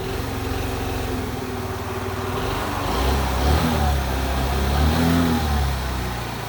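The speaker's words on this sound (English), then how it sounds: "So if you start it up, let it run, and that rear tire moves ever so slightly," A 2009 Vespa LX 50 scooter idles on its center stand with a steady, moderately loud engine drone that swells slightly midway, heard close up without talk.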